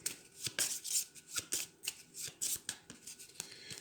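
Cards of the Dinoblivion board game being handled and shuffled on a table, a quick run of crisp, papery riffles and snaps in an irregular rhythm, close and fairly quiet with no talk.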